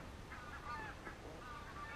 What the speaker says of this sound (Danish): Der er lyden af en gås eller en stak gæs, der flyver henover.